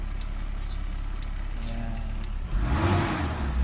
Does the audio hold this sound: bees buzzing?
no